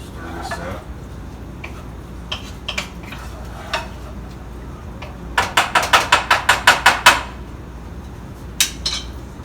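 Greens cooked with bacon stirred in a pot, a spoon clinking against the sides in scattered taps, then a quick run of about ten rhythmic scrapes and knocks, with a voice talking faintly.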